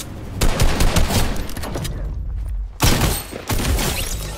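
Bursts of heavy gunfire in the video game Fortnite, loud rapid volleys that stop briefly, then resume in two more sharp barrages close by.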